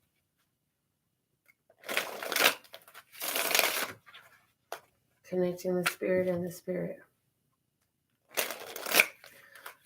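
A deck of tarot cards is shuffled by hand in short riffling bursts, soft papery rushes that come and go between stretches of a person speaking nearby, fairly close and moderately loud.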